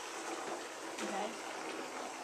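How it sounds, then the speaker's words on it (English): A bathtub fills with water running from the tap, a steady broadband gush that stays loud and continuous throughout, with a slight swell partway through. "I'm running myself a bath."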